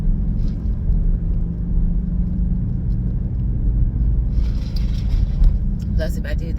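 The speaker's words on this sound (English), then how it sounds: "this traffic out here is kind of crazy" Steady low road rumble of traffic heard from inside a car, a continuous engine and tyre drone with a few brighter passing-vehicle swells near the end; no talk.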